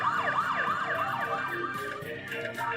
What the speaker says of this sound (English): put them sirens on